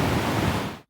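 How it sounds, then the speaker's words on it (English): A burst of white noise sample used for sound design, a dense, loud, even hiss lasting under a second before cutting off abruptly. "white noise"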